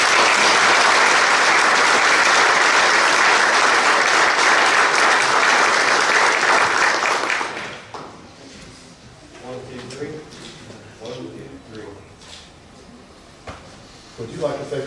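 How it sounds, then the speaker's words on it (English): About seven seconds of loud, dense applause fills a city council meeting for an officer-of-the-year award, then cuts off sharply as a voice begins speaking in the room. "can we please give him a round of applause?"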